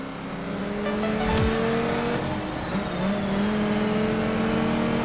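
Dodge SRT Viper GT in a sprint race in Need for Speed: Most Wanted (2012), its engine droning loud and steady with rising and falling revs through gear changes, close and alone.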